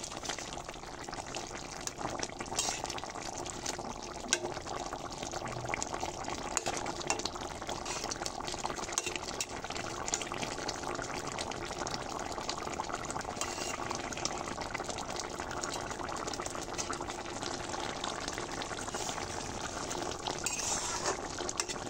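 Egg curry with cumin powder simmering in a pan on the stove, a steady close bubbling and sizzling hiss that runs unbroken and fairly soft throughout.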